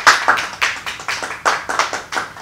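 Sparse, uneven hand claps at a Toastmasters meeting honoring a speaker named Agatha, each clap distinct and fairly close, with no voices over them.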